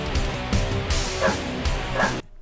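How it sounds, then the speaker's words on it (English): Trained dogs barking in time with a vocal performance during a live show, several rhythmic bow-wow barks and yips that recur in pulses against a dense, steady musical backdrop before stopping abruptly. "the dogs were trained to bark like in sync with whatever vocal performance they should do"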